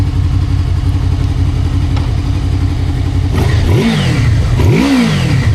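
Four-cylinder engine of a Honda Crossrunner 800X motorcycle idling steadily and loud, then blipped in two sharp revs that rise and fall, with no voices.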